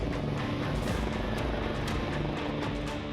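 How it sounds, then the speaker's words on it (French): A steady, loud rotor roar with a low droning hum fills the whole stretch, like a helicopter hovering fairly close by, delivering big bags to a railway viaduct worksite in strong wind. "Nos équipes réceptionnaient les big bags que lui amenait l'hélicoptère."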